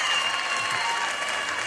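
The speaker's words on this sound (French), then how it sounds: "Vous pouvez les applaudir." An audience at an outdoor summer music tour concert claps steadily, a dense, even burst of applause heard close throughout.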